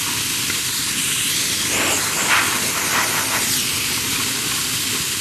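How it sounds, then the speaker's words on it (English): Steam hisses steadily through the vent of a pressure canner during home canning of summer squash, a continuous close, loud rushing hiss with no talk. "I have steam coming through the vent."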